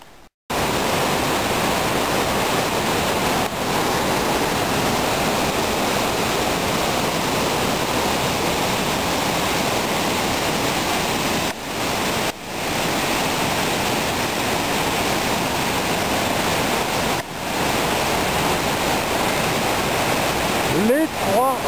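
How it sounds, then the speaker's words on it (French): The Trois Roches waterfall near Marla roars as a loud, constant wash of falling water, broadband and unbroken across the whole stretch, with brief dips near the start and end. "et là, la cascade"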